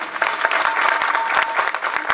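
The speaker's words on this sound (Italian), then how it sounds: "vi ringrazio per l'applauso" An outdoor evening audience at an Italian political rally claps in dense, continuous applause, loud and close, with no pause through the stretch.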